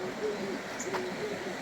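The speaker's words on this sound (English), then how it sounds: "The beauty and the sounds of the water and the birds." Soft bird calls at a private campsite in the Cederberg, a few faint cooing notes drifting over a quiet outdoor background.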